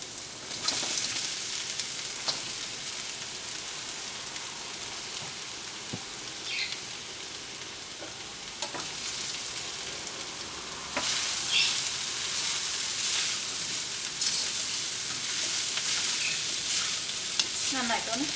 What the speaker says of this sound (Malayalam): ഇതിലേക്ക് നമ്മൾ വറുത്ത് വെച്ചിരിക്കുന്ന ചിക്കൻ ചേർക്കാം.